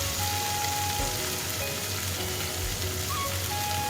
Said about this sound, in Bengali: এখন আমি ভেন্ডিটা দিয়া ভাজি করে নিতেছি